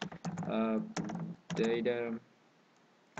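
Keys on a computer keyboard clatter in a few sharp taps scattered between bursts of someone talking, with a quiet gap near the end.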